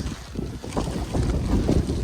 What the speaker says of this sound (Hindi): बहुत तेज़ हवाएं चल रही है